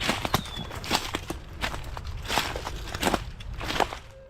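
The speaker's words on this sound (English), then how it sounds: "heavy footsteps crunching through dry leaves outside" Heavy footsteps crunch through dry leaves outdoors in a suburban neighbourhood, a series of uneven, fairly close crackling steps with faint rustling between them and no voices.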